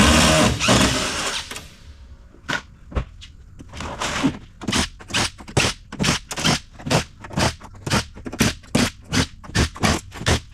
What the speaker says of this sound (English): We're gonna be doing a lot of unscrewing.